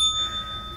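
A single bright bell tone rings out as a sound effect, a sharp clear ding that fades quickly over under a second and stands alone without any talk.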